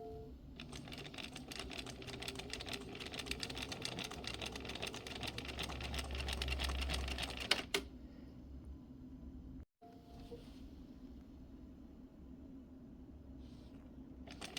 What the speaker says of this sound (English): So I'm just sewing right on the edge